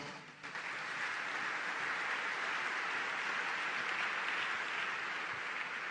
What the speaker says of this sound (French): Pasteur Barombala vient sous nos acclamations.